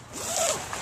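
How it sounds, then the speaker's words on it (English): A tent window zipper on a 12-person Core Equipment instant tent is pulled in one quick, smooth rasping stroke, close and clear, with no talking. "you can pull this out of here and, zip it up part way"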